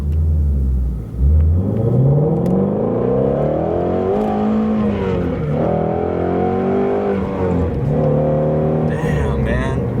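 A Shelby GT350 accelerates hard from a red light in traffic, the engine note climbing steadily through the revs as a loud, close rumbling roar, with a brief gear change before it pulls again.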